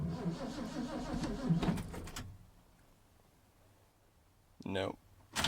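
A 1978 Ford F-250 truck engine cranks on a cold start after months of sitting, about two seconds of loud, rhythmic starter churning that fails to catch, followed by quiet and a couple of short thumps.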